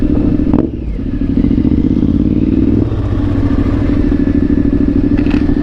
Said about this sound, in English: And that bike sounds so good going through these towns.